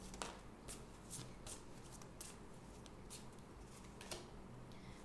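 Shiva oracle cards being shuffled by hand, a faint, close series of quick riffling flutters and soft slaps repeating through the whole stretch over quiet room noise.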